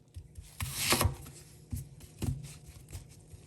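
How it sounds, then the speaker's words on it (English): Onions being cut with a knife while cooking chicken thighs on the stove, a few scattered soft chops and scraping strokes on a board, close and fairly quiet. "You have to cut your onions."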